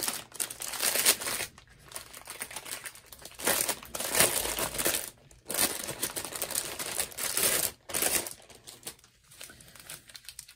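Diamond painting packages are unwrapped in close, sharp bursts of plastic crinkling and rustling, separated by short quiet pauses, with no talk.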